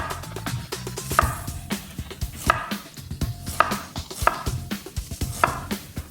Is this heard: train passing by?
no